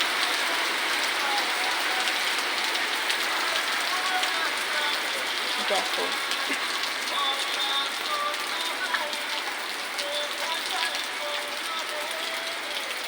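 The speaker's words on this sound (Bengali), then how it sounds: "বৃষ্টি হচ্ছে খুব।" Heavy rain pouring steadily outside a lodge, a dense continuous hiss of drops on surfaces throughout, with a person speaking briefly over it.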